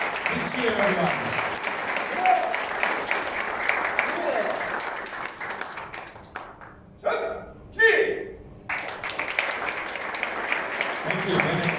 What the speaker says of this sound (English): Big cheer, everyone.